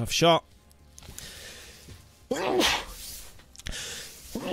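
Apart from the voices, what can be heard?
sneeze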